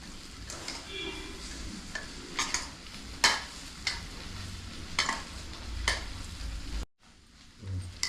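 A lentil dumpling mixture with onions is stirred and pressed by hand in a bowl, giving soft scraping and squelching strokes with a few sharper clicks, fairly quiet and close, then a brief silence near the end.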